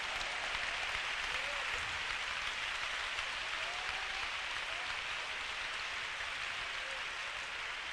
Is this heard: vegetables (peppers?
no